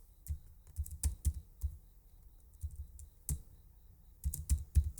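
Typing on a computer keyboard in Visual Studio, irregular clusters of sharp key clicks separated by short quiet gaps, close and fairly clear with no voice.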